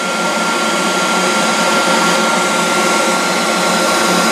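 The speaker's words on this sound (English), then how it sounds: "I'm going to take my MicroMark heat gun, turn it on at the back end, let it heat up for about 20 seconds." A MicroMark miniature heat gun runs steadily with a loud, even broadband blowing hiss that holds constant for the whole stretch, with no talk.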